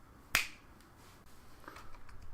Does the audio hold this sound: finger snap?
yes